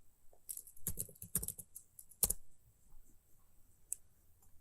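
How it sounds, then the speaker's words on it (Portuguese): Clicky typing on a computer keyboard while entering text into an Excel spreadsheet, a few quick bursts of close keystrokes separated by pauses, with no talk. "À medida que eu vou digitando, por exemplo, digitar aqui teste"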